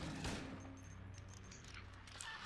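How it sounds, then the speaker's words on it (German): Gunfire in the survival horror video game Silent Hill 2, aimed at creatures on the ground, heard as a dense, steady burst of game shots over a constant low background, with no one speaking. "Ich weiß, ich sollte eigentlich nicht hier mit Munition rumschießen"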